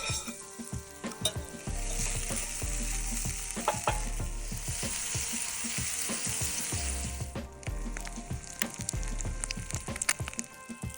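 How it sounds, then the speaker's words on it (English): Breakfast sizzles steadily in a pan over a camp burner at a riverside campsite on the Manistee River, with frequent scraping and tapping of a utensil stirring the food up close. "time to fire up the burner and get some breakfast going."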